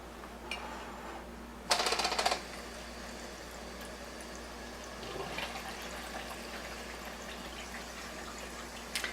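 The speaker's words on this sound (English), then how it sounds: "And I'm going to turn the water back on." Water runs from an acid hose into a plastic cup while a machine is being cleaned: a steady low trickle with one brief, louder splashing burst early on and no talking.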